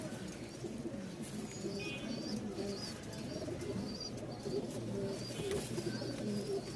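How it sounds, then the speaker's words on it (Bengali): Rajshahi Giribaz pigeons coo steadily and close by, a layered chorus of low throaty calls from several birds over a constant murmur of background noise. "এই যে ডাক শুরু হইল, ফুল মুডে আছে কবুতরগুলা।"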